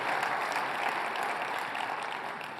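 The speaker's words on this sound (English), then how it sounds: "So give a round of applause to Ruth." Dense, steady applause from a conference audience honoring Ruth Porat at a global AI talk, loud and sustained throughout, easing slightly toward the end.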